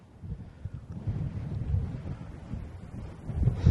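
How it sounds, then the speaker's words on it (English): Strong, steady wind of roughly 20 to 30 miles per hour buffets an open outdoor spot on a waterfowl hunt, rumbling low and continuously across the microphone and swelling louder toward the end, with no talking. "Probably good 20, 30 mile an hour steady wind here."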